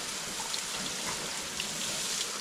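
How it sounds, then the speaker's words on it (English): Steady broadband hiss of water trickling and draining into a Sprinter van through a newly installed bunk window, a continuous close wash with faint drip-like ticks scattered through it. "Oh, water's still coming in."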